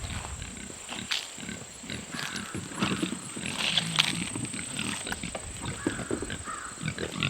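Pigs on a farm come over to their pen to be fed, with a steady jumble of grunts, snorts and shuffling hooves close by, continuing for several seconds.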